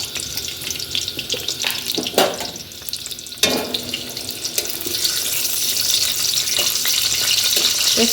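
Dry red chillies and bay leaves fry in hot oil in a wok, a steady close sizzle with a couple of sharp clatters of utensils partway through, the hiss swelling louder and denser toward the end.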